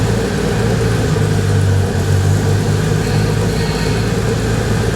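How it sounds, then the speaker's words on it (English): The air-cooled 600 hp Porsche 964 Turbo flat-six idles steadily without throttle in a Porsche 911 build at its first start, a continuous close mechanical drone with the cooling fan lightly hitting its housing underneath. "That's the fan hitting, I think, a little bit in the housing, isn't it?"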